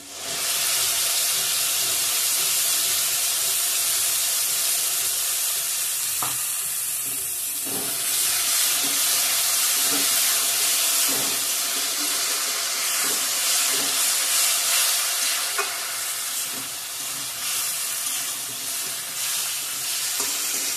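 Potato pieces fry in hot oil as tomato paste goes into the pan. A loud, continuous sizzle and hiss runs throughout, broken by a few sharp clinks and stirring scrapes.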